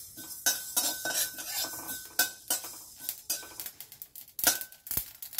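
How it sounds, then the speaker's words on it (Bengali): Mustard seeds splutter in hot oil in a pan while making tok-jhal mango pickle, a close, busy run of irregular crackles and sharp pops mixed with light clinks. "এবারে সর্ষেটা একটু ফুটফুট করতে লেগেছে"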